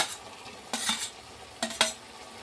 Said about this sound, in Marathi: आता मी टाकणार आहे टमाटर